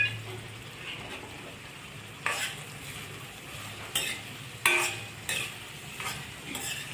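Two onions sautéing in a pan give a low, soft sizzle under a series of distinct, sharp clanks and scrapes as a spatula stirs and strikes the pan every second or so, close by and with no talk.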